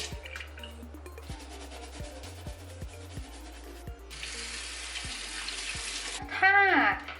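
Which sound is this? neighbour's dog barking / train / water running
water running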